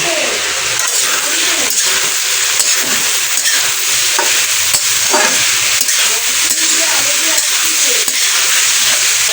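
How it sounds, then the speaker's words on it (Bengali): Green beans frying and being stirred in a pan, a steady loud sizzle with intermittent scraping stirs throughout. "শিম ভাজি হচ্ছে"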